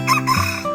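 Jungle fowl decoy bird crows loudly and close, a short harsh cock-a-doodle call with clucking tones, heard alone in the forest.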